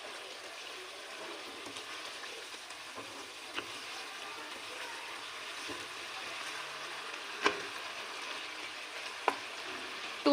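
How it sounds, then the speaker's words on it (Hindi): Chicken frying in a karahi over a medium flame makes a faint, even sizzle that runs throughout, with a few brief clinks of a utensil and no voices. "तो इसमें हम भूनेंगे।"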